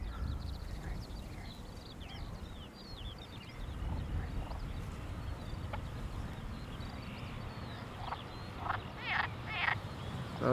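A chorus of frogs croaks steadily outdoors near an airport, dense overlapping calls forming a constant rasping bed, with a few sharper croaks standing out near the end.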